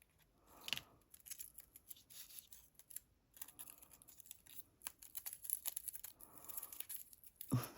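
Scissors snip through washi tape on altered playing cards, a few close, quiet cuts and crinkles separated by pauses, with a louder snip near the end, alone without talk.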